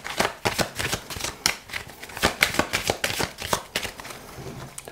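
Tarot cards being shuffled by hand close up, with a steady series of crisp riffling and slapping strokes repeating for about five seconds and no talking.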